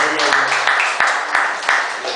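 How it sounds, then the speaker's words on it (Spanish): A church congregation applauds, giving a continuous wash of many hands clapping at once, with sharper claps now and then and voices carrying over it. "Dale un aplauso al Señor"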